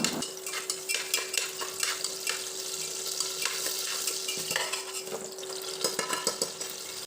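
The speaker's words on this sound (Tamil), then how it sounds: "இதை இப்போ 2 நிமிஷம் வதக்கி விட்டுக்கலாம்" Cloves, cardamom and peppercorns sauté in hot fat for Kolkata biryani, giving a continuous close sizzle broken by frequent scraping stirs and light clinks against the pan, with no talking.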